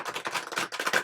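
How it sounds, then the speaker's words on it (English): Tarot cards shuffled by hand, a quick run of crisp papery riffling bursts, close and fairly loud, with no talk over it. "All right, one more shuffle."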